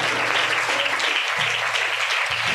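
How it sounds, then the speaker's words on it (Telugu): A church congregation at a worship service claps together, a sustained, fairly loud wash of hand claps lasting a couple of seconds, with a low hum underneath. "చప్పట్లు కొట్టి దేవుని కనపరచాలి."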